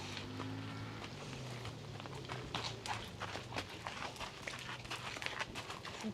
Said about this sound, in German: Ein Pippi Langstrumpf-Pferd